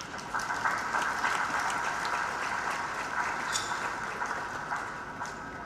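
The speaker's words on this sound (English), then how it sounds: "Please clap for yourself." Steady applause from a seated audience at a university congregation (graduation) ceremony, moderately distant and even, a continuous wash of clapping with no talking.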